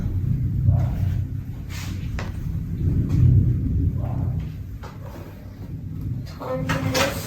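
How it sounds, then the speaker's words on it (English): Low thunder rumbles in long, heavy swells through steady rain, with a few brief knocks and clatters on top and no speech. "Thundering. Rain is raining."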